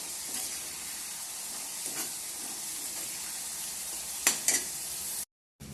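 Spices sizzling in hot oil in a pan on low flame, a steady close hiss with a few stirring scrapes and brief louder crackles near the end.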